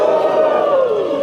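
A loud crowd at a youth festival event roaring and cheering continuously, a dense wash of many voices shouting together with no break.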